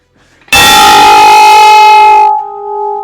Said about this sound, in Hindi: यहाँ पे घंटी लगाई गई है भाई, शायद मंदिर है अंदर, तो जाओ बजा दे घंटी